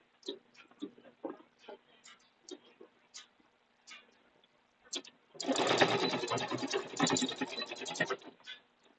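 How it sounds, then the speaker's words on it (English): A sewing machine in need of a tune-up runs in one continuous loud, buzzing burst for about three seconds, coming after a series of soft clicks and taps, and heard close up. "The sewing machine needs to get a tune up."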